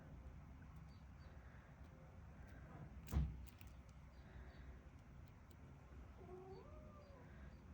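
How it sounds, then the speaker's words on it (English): A house cat meows to be let back in, one faint drawn-out call near the end that follows a single soft thud, all over a quiet room hum. "And I have a cat that wants in."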